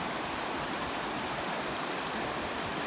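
A mountain stream rushes along a backcountry trail, a dense, unbroken roar of flowing water, loud and close, with no other sounds.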